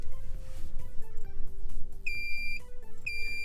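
A Toyota 4Runner chiming repeatedly while a key is programmed: two short high beeps about a second apart, heard over a low rumbling background.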